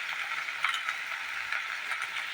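Turmeric is stirred into a mash of ghatkol greens, a steady close sizzling scrape with small rhythmic scuffs from the spoon running through the whole moment.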